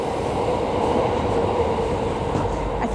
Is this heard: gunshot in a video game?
no